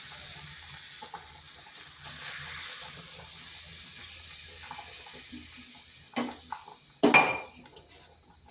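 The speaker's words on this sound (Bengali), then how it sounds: "বেশ কিছুক্ষণ এরকম নাড়াচাড়া করার পর এরপর দিয়ে দেবো জল।" Water poured into a pan of cabbage cooking with mustard, a soft steady hiss running under light pan noise, then a few sharp clatters of utensils against the pan near the end.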